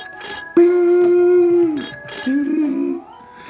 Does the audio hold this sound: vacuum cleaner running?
no